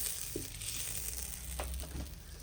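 Butter simmers in a pan as it turns into ghee, giving a soft, steady sizzle and bubbling with a few faint pops, quiet and close.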